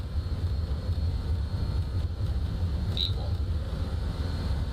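BAE146 jet engines roar steadily through a takeoff roll in Microsoft Flight Simulator 2020, a constant low rumble with a brief high beep near the end.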